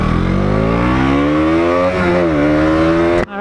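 A 2021 KTM 200 Duke motorcycle accelerating hard in first gear, its single-cylinder engine revving loud and close with a steadily rising whine before the throttle snaps shut near the end.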